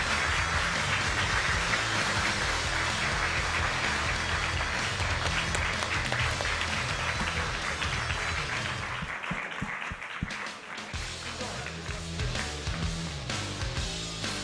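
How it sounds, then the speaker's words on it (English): A conference audience applauds as the Zabbix team comes on stage at Zabbix Summit 2023, dense sustained clapping that fills the room and thins slightly near the end. "I would like to invite Zabbix team to the stage, please. Round of applause."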